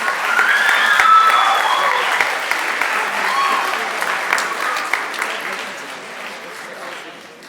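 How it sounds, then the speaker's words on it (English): Audience members at a middle school spring choir concert give the singers a round of applause, a dense, sustained clapping that swells early and slowly tapers off. "Give these guys a round of applause."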